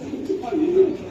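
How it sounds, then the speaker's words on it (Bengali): A female racing pigeon gives a short, low cooing call, close by, with faint background murmur. "এটাও মাদি কবুতর।"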